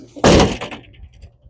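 A 1975 Chevrolet Suburban truck door slams shut with one loud, close, solid thunk after fresh door pin replacement and striker adjustment, followed by a brief rattle and quiet tail.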